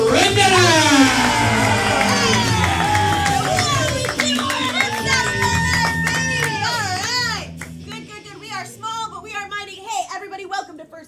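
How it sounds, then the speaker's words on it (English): A comedy club audience screams, whoops and claps for the host. Loud, high-pitched shrieks and cheers rise over a bed of clapping and crowd noise, then thin out into scattered yells toward the end. "Let's hear some clapping. Let's hear some screaming. Let's make some noise for your host, Madeline Brendan."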